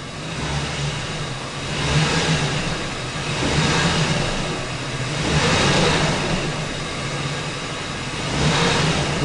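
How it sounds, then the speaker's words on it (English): A 2004 Ford F150 pickup in drive with a freshly rebuilt, problem 4R75W transmission, engine surging up and easing back down in slow repeated waves, steady and close, no voices. "I'm gonna press on the accelerator"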